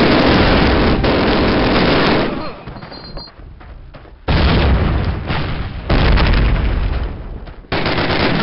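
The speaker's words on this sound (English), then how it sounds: "Take cover. This cannon's about to go boom." Gunfire and heavy booms fill a battle in the first Call of Duty game, as a cannon goes off in loud, close bursts of rapid shots and blasts, broken by short quieter gaps.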